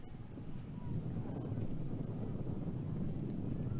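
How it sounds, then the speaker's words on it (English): Wind blowing steadily across an outdoor college softball field in Arlington at night, a continuous low rumble of gusts buffeting the microphone with no talk. "Windy night here in Arlington."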